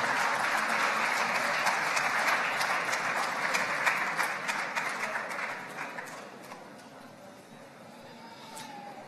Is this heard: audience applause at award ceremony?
yes